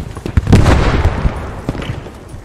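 Gunfire in a Post Scriptum battle between British and German armies, several sharp close shots in quick irregular succession, with a burst near the middle and another crack near the end.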